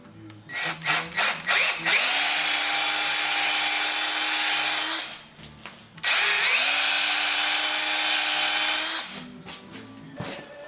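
A power drill boring a hole for a Warn winch mounting bolt, the bit stepped up past 3/8 inch; two long, loud whining drilling runs with a short pause between them, preceded by a few brief bursts of the motor.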